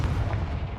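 A Confringo fire spell blast goes off in the Hogwarts Legacy video game as one short, heavy, booming burst that rumbles loudly and continuously through the whole moment.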